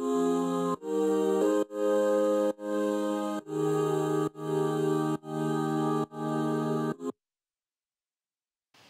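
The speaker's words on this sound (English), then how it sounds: "Then I added a contact library that sounds like a choir" Choir-like patch from a Kontakt sample library playing sustained vocal chords, in a production of a song. Eight held chords of about a second each sound loud and close with brief gaps between them, then silence.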